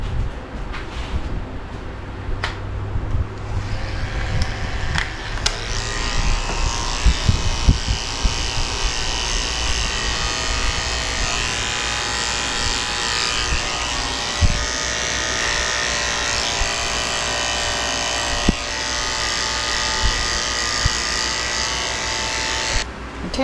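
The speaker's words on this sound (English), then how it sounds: "I'm gonna take my tin blade and shave under her tail," Electric clipper fitted with a thin blade shaving the hair under a Shih Tzu's tail during grooming, a steady buzzing whir that runs close and continuous throughout.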